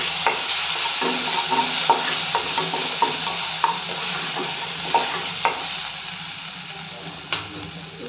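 Spinach with crushed garlic and green chili sizzles steadily in a frying pan while a spoon stirs it, with irregular scraping knocks against the metal every second or so, close and clear.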